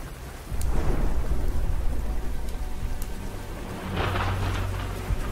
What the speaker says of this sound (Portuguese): A tempestade é uma camuflagem para a incursão.